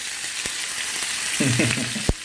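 Curry leaves sizzle in hot oil alongside pearl spot fish frying with green peppercorns, a dense, steady crackle with a few sharp pops and brief stirring clinks.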